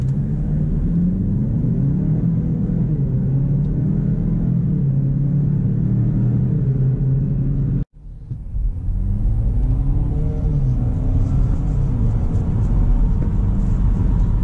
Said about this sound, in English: Little acceleration run here just to see how quick this is.